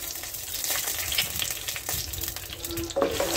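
Whole spices, masala, green chillies and fenugreek seeds fry in oil for a shark fish gravy, a continuous close crackling sizzle with a few stirring scrapes and no speech.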